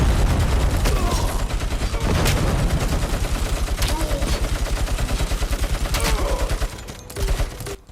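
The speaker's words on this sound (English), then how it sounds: "Robocop feels weighty and the guns sound impossibly loud." Gunfire in Robocop: Rogue City, a loud, dense, rapid automatic stream of shots that pounds on for about seven seconds, then a few heavier final bangs, close and overwhelming.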